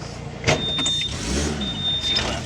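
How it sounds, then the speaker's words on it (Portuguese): A truck manoeuvring and reversing, a close engine drone that rises and falls as it shifts, with a brief clunk near the start and a thin whine above it; no one speaks. "caminhão é difícil fazer ré"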